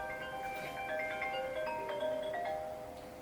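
A phone rings with an incoming call, a melodic electronic ringtone playing a series of bright, shifting tones for a few seconds, moderately loud with no voices over it.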